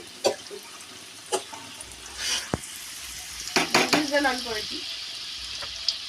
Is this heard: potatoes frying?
yes